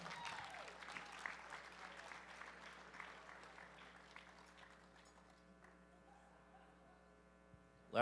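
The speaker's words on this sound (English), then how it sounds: "Give them a round of applause for that." Applause from the crowd at a USA Powerlifting meet as competitors receive participation medals, fairly faint and diffuse, tapering off over several seconds above a steady electrical mains hum.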